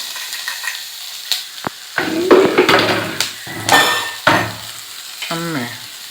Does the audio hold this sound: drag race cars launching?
no